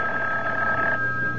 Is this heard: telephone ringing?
yes